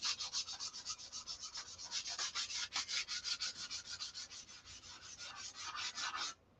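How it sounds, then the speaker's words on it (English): Sandpaper is rubbed by hand over the body of a Viper during a detail sand-out, making repeated rhythmic back-and-forth scratchy strokes up close that stop abruptly at the end. "this thing's going to be sanded out"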